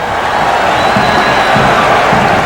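A crowd of 19,000 at a Washington arena during a 1978 Sixers vs Bullets basketball game cheers in a loud, sustained roar that fills the space evenly from start to finish.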